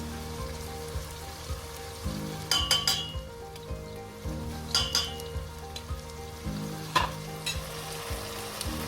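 Rabbit curry with salt sizzles and fries steadily in a pan, a crackling hiss broken by repeated stirring scrapes and clatters of a utensil against the pan at irregular intervals.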